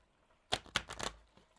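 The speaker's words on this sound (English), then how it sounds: "I don't know why I decided to shuffle those cards that way." A big deck of tarot cards is shuffled in a few quick, close riffling bursts that patter in a brief cluster, then stop.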